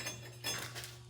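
Metal bolts clink against one another in a shop while an axle rack is being built, giving a short run of light, bright metallic chinks over a steady low hum.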